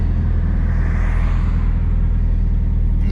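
Interior of a 500hp SR20DET-powered car while driving, a loud constant low rumble of engine and road noise filling the cabin, steady throughout with no talk.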